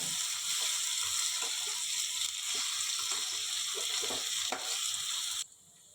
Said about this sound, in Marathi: मीठ घालते चांगलं ढवळून घेऊया